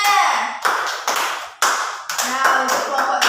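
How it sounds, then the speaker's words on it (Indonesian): Students in an elementary school classroom clap for classmates after a group presentation, a loud close burst of hand claps in uneven waves, with voices talking over it. "beri tepuk tangan untuk temannya."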